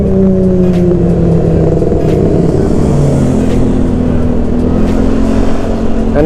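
A Kawasaki ZX sport motorcycle engine revs on a city road, its loud, close, continuous drone shifting in pitch as it accelerates and eases off, with no talking over it.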